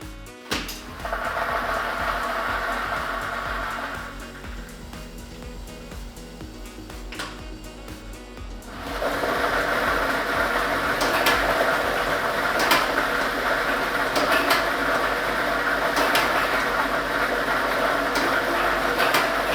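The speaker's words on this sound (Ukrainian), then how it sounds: "Тиражна комісія до початку гри довільно обрала лототрон А комплект кульок номер 2 І ми вмикаємо лототрон." A lottery drawing machine starts up and tumbles its set of balls, a rattling, clattering churn that grows louder and busier after a few seconds and continues steadily, with sharp clicks of balls knocking together.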